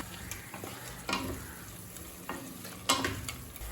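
Masala sautés slowly over low heat in a pan, a soft continuous sizzle broken by a few stirring scrapes, close and fairly quiet.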